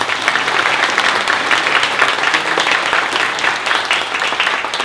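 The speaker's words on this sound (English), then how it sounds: "please give yourselves a round of applause for supporting queer film" Sustained audience applause at a queer film world premiere in Cairns, dense steady clapping from a large crowd filling the room without a break and with no voices on top.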